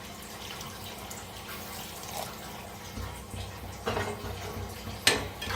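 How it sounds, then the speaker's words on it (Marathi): Water is poured into a pan of masoor dal and onion, giving a soft, quiet trickle and splash with a few faint clinks of the pan, and no talking. "आता ह्याच्यात ओतायचं थोडंसं पाणी,"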